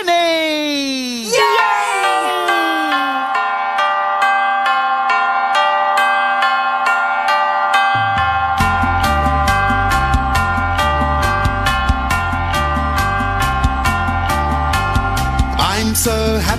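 Tuned bells ring out in a bright, sustained melodic sequence, with repeated struck tones building into a steady rhythmic pattern over a low pulsing accompaniment, loud and close.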